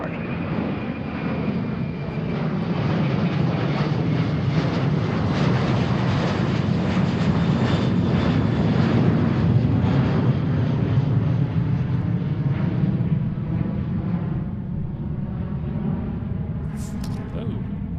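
A jet airliner roars down the runway on takeoff at Seattle airport, a loud continuous engine rumble that swells and then slowly fades as it departs, with air traffic radio voices faintly over it.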